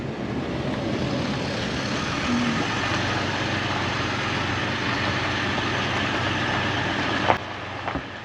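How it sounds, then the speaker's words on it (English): A truck engine idles near the microphone at a campground on a farm in Bradenton, Florida, producing a steady low rumbling drone that runs throughout, with a couple of brief knocks near the end. "it picked up the truck noise more than the voices"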